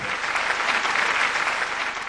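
Audience applause fills a hall at a healthcare award night, a steady, dense clapping crowd sustained throughout with no talk over it.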